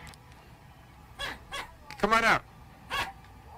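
A man imitates a dog's barking, giving a few short yelping bursts with a louder cluster in the middle, mixed with brief speech.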